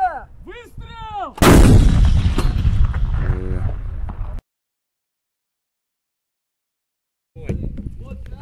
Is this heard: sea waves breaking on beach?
no